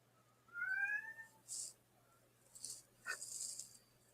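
A cat gives a thin, high meow, then a few fainter mews and short rustly noises, all quiet and somewhat distant against a low steady hum.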